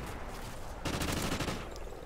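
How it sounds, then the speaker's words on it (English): Rapid automatic gunfire in the video game Call of Duty Ghosts erupts partway through as a dense burst of repeated shots, loud against a steady background of game noise. "started shooting that guy that was coming across the bridge"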